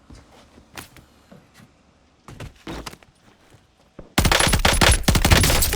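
Call of Duty Warzone match: soft footsteps and scattered thuds, a brief lull, then a sudden loud, sustained burst of rapid automatic gunfire that fills the last seconds.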